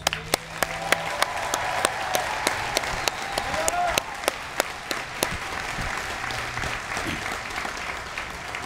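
An audience at a military basic training graduation applauds the instructors, a broad, steady patter of many hands from a large crowd with a few sharp nearby claps standing out.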